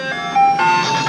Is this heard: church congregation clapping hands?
no